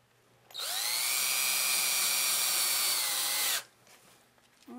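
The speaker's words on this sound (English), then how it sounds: "using my drill, I'm going to put screws all the way around." A power drill drives screws into a wooden canvas frame: one loud, steady whine of about three seconds that rises slightly, then cuts off, with quiet room sound before and after.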